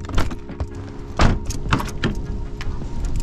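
Car keys jangle in short bursts close by, a Nissan 350Z's key handled near the car with a soft metallic clatter and small clicks against a steady low hum.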